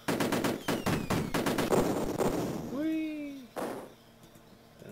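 Machine gun fire in the Amiga game Cannon Fodder, a rapid rattle of sharp bursts filling the opening seconds, followed by a falling whistle-like tone and one more short burst, with no speech over it.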